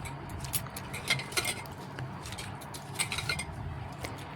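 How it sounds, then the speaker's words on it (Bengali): Drained rice tipped into a wok for homemade biryani, a rustling, scraping pour with light metallic clinks from the utensil, fairly close and moderately loud. "দেখুন আমি চালটা জল ঝরিয়ে এখন দিয়ে দিচ্ছি কড়ার মধ্যে"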